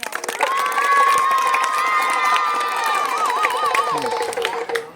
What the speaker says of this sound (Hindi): बजाओ एक बार ताली और हल्ला कर दो